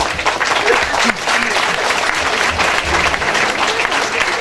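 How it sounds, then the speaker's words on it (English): A large audience applauds continuously at a campus welcome event, a dense steady roar of clapping with some crowd murmur mixed in, filling the whole few seconds. "Please keep the applause flowing"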